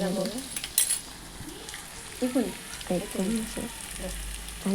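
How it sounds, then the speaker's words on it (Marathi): Oil sizzles steadily in a kadhai while a utensil stirs and clinks against the metal, with brief bits of nearby talk. "अशा प्रकारे आपल्याला त्याचं फ्राय करायचं असं फ्राय करून घ्यायचं"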